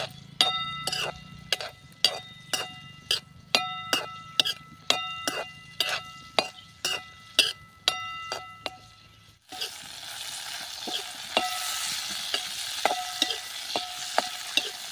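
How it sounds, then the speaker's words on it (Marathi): Green chillies roasting in a pan until blistered, for a gram-flour thecha: about ten rhythmic clinks of a stirring utensil over low sizzling, then a louder, steady frying sizzle with a few scrapes near the end. "आता ह्या मिरच्या आपल्याला डाग पडेपर्यंत भाजून घ्यायच्या आहेत."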